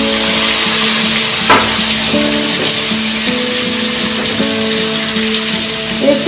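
Chopped onion and tomato fry in a pan of oil for a meat khichuri, a steady, loud sizzle with a few stirring knocks and background music underneath.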